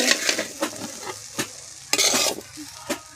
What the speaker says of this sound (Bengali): এবার গাজর যেগুলো ভাজলাম সেগুলো এবার সব দিয়ে দেবো, এর মধ্যে দিয়ে মিক্স করে নেব